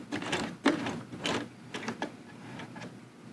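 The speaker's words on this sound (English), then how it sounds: "I'm going to sew back into that seam allowance very carefully" Domestic sewing machine stitching back into a seam allowance on fabric, with short bursts of quiet mechanical whirring and needle ticking separated by brief pauses.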